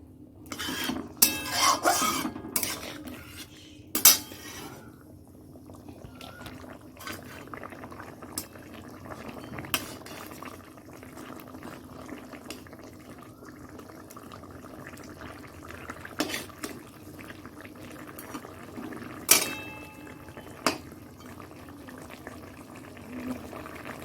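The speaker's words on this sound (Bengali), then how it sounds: "দেখো ফুট ধরে গেছে অলরেডি চাপা দিয়ে দেবো" Fish curry simmers in a pan, a steady low bubbling and boiling with occasional louder pops and clinks of a pot or utensil, close and continuous throughout.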